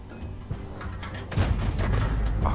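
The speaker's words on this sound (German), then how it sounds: "Oh, der Schuss blieb in den Ruinen hängen." Cannon fire from a tank in World of Tanks, near the Archer tank destroyer on a ruined town map, comes as a deep booming shot with a rumbling tail over steady game background noise.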